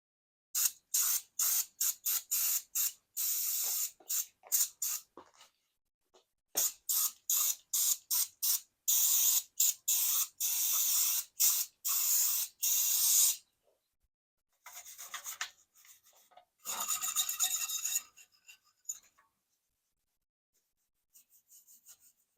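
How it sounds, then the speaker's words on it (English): Brake cleaner sprayed onto the brake caliper of a BMW 3 Series, in many short sharp hissing bursts with longer sustained sprays, close and clear, separated by brief pauses. "So we're just going to use some brake cleaner."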